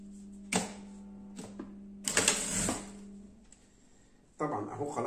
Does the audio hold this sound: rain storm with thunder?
no